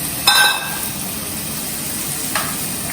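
Corn and capsicum are stirred in a frying pan under a steady background sizzle, with a sharp metallic clink of the spoon near the start and another softer scrape toward the end; no voices.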